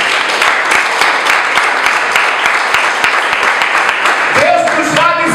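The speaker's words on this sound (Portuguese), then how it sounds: "Dá uma grande salva de palmas para o Senhor." A church congregation claps together during a Lord's Supper service, a dense, even patter of many hands with voices rising toward the end.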